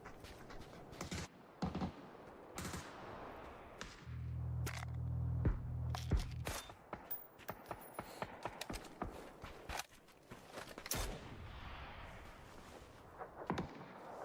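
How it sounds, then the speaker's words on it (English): Gunfire in a competitive first-person shooter match: scattered sharp shots and bursts ring out amid footsteps and game effects, with a dense low rumble midway, under continuous excited commentary. "Some shots go out. Nothing connects."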